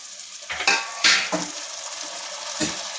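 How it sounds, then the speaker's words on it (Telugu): Onion pieces frying in oil with cumin for a capsicum curry, a low steady sizzle broken by a few sharp bursts as a spoon stirs and scrapes the pan, close and alone. "ఉల్లిపాయ ముక్కలు ఇలా వేపుకోవాలి"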